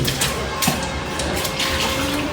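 Water splashing outdoors as a football is kicked around in the rain, a steady broadband wash of spray and puddle water with a few sharper splash bursts throughout.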